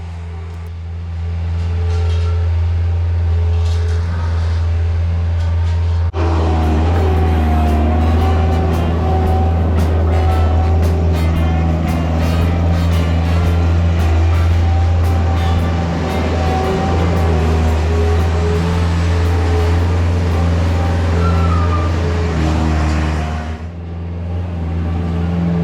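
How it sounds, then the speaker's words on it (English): A skid steer grades a pole barn site up to a 12 by 12 center drain, its diesel engine droning steadily and loud throughout, rising and falling with load as the machine works nearby, with no talk. "This guy was really good with the skid steer."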